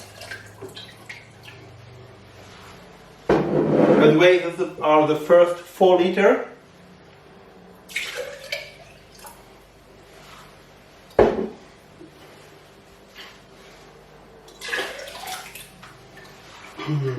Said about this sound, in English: I fill all bottles with a little bit water